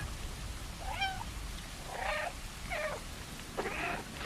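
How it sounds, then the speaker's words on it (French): Several short, faint cat meows from the cat in the video game Stray, spaced irregularly over a steady background hiss. "Il me semble qu'on peut miauler."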